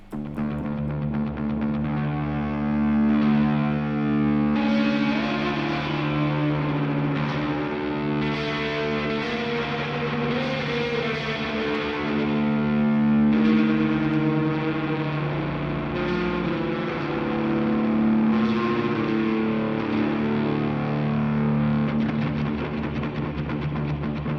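Heavily distorted, layered guitar tone through an Old Blood Noise Beam Splitter pedal with three distortion channels and clipping modes roars continuously with thick saturation and shimmering modulation, dense and loud, no talking.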